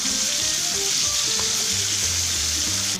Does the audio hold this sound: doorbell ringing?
no